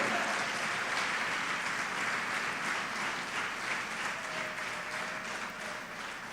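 A church congregation applauds together, a dense steady wash of many clapping hands filling the room at moderate level, fading slightly toward the end.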